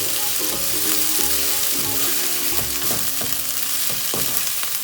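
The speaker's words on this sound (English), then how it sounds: "We need to saute these vegetables really nicely to get a beautiful flavor." Vegetables with ginger garlic paste sautéing in a pan for an egg keema, a steady close sizzle with occasional stirring scrapes and clinks throughout, no talking.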